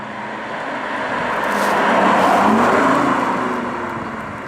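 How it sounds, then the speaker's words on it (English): A steady V8-like engine drone piped through the speakers swells from inside a BMW i8, rising to a peak midway and easing off, with no talking over it. "the first thing you hear is all this engine noise. It sounds like a V8."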